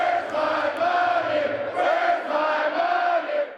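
A large crowd at a property tax relief rally inside a statehouse hallway cheers and shouts continuously, a dense, sustained roar with rising swells and no clear individual voices.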